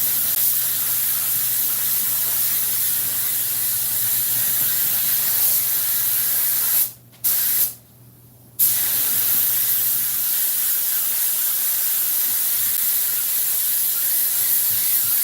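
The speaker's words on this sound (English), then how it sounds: "all you gotta do is get out the spray gun, start spraying" A spray gun hisses continuously up close, pausing twice briefly before resuming its steady high-pitched spray.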